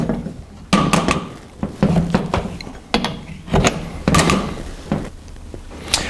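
A pulley removal tool working a power steering pulley off its pump, giving repeated close metallic clanks and ratcheting knocks in an uneven rhythm over a low background rumble.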